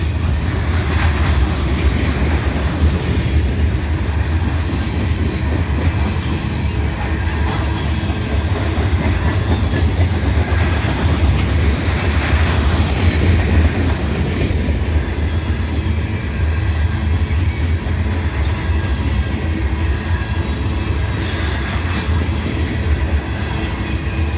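Freight train of 4-bay covered hopper cars rolling past close by, a loud continuous rumble with rhythmic wheel clatter and a brief squeal near the end.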